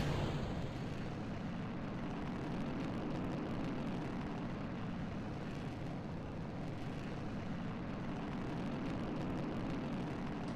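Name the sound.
aircraft engine spooling up at full throttle, flight sim video game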